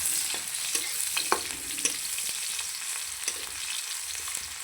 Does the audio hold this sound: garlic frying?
yes